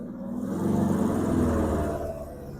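A Super Baja engine revving while driving, a close buzzy note climbing steadily in pitch through a first-gear pull, then easing off as the revs drop.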